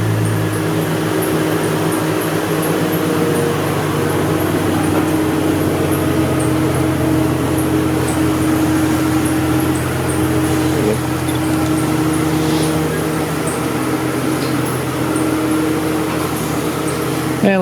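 A 1996 Ram 1500 pickup engine idles and creeps in with a steady low rumble and hum, continuous and close.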